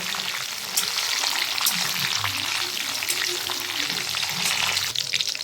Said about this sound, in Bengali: তেল আর ঘি গরম হয়ে গিয়েছে, এখন আমি এর মধ্যে ছেড়ে দিচ্ছি কাজু আর কিশমিশ।